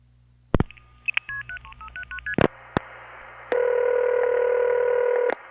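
Telephone dialing heard from a home line in Long Island: a short click, a rapid string of stepped dial tones, a few sharp clicks, then a steady multi-tone signal holding for nearly two seconds before cutting off, close and clear.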